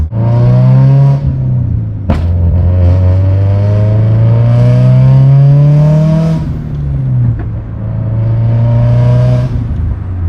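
A 2018 Subaru WRX STI's turbocharged boxer engine revs repeatedly, rising and falling in pitch with a raspy exhaust note and a couple of sharp backfire pops between revs.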